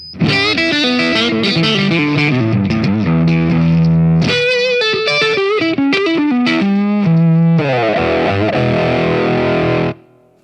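An electric guitar played through distortion effects rings out loud and close in sustained, saturated chords and notes, with brief shifts between phrases and no talking.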